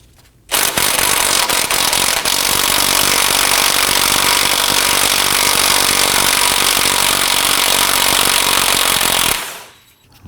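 An impact wrench with an 18mm socket loosens a tie rod nut on a 2015-2024 Nissan Murano, a loud continuous mechanical whir and rattle running nearly ten seconds alone, then cutting off.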